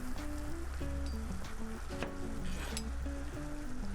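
Flambéed banana sauce cooking down in a pan, a steady close sizzle and bubbling that runs continuously and evenly throughout, with no talking over it.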